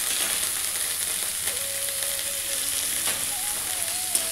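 A spice paste of tomato, ginger paste, cumin paste and chopped green chili fries in a pan with a dense, continuous sizzle, close and fairly loud, with a few faint tones over it and no talking.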